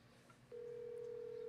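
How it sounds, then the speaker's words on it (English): A telephone dial tone starts partway through and holds as a steady, unbroken hum during a phone call attempt, faint but clear over quiet background. "I'm going to try to call this number back again."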